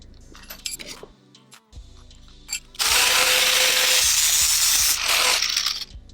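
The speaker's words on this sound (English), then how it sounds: "So now I'm gonna rivet more." A rivet tool works on a perforated exhaust pipe for a 2020 GSXR 600 stock exhaust mod, with a few sharp metallic clicks and clinks followed by a loud, sustained whirring burst of about three seconds.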